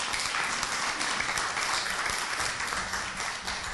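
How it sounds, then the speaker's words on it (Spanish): Church congregation giving loud applause to the Lord during a sermon, a dense, sustained wash of many hands clapping at once, steady and full for the whole stretch. "Fuerte ese aplauso al Señor."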